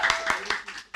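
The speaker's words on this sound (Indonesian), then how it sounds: "Tepuk tangan boleh." A few separate hand claps close by, about five sharp hits in quick succession under ongoing conversation, fading toward the end.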